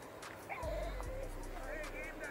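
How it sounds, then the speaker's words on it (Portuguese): A dog at an outdoor street fight gives a few short yips and whimpering barks, fairly near, mixed with crowd chatter and voices. "Tem até cachorro latindo, tem."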